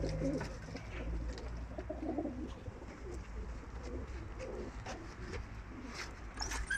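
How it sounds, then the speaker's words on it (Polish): Homing pigeons cooing softly in a loft, low repeated coos over a background of rustling and occasional faint chirps. "Są to gołębie do oddania za darmo"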